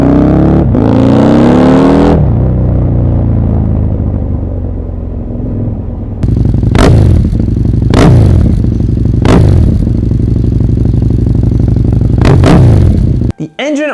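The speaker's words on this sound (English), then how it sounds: "Here's the sounds of his wonderful Nuda." A modified Husqvarna Nuda big-bore parallel-twin motorcycle engine idles loudly up close, then is blipped in several sharp revs that rise and fall, ending with a brief cutoff.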